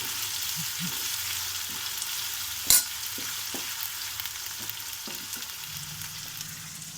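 Onion and curry leaves with turmeric sizzle steadily in a hot pan for cauliflower fry, a dense continuous frying hiss broken by a few soft stirring knocks and one sharper clatter.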